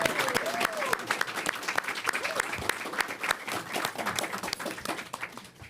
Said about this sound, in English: Would you please look at your neighbor and give them a round of applause